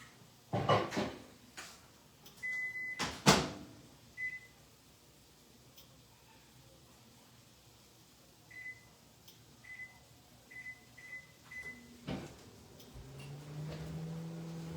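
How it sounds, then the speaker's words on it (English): A microwave runs with a pressure cooker inside: a quiet, steady low hum broken by a few sharp clunks early on and a string of short, high electronic beeps repeating through the middle, ending in a rising rumble. "my microwave pressure goes better after it's been on for 5 minutes"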